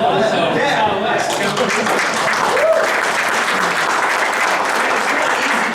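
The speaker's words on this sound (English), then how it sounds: "Round of applause, so that's how it works." An audience at a coding talk breaks into a round of applause, dense, sustained clapping that stays loud and even, with a voice briefly heard near the start.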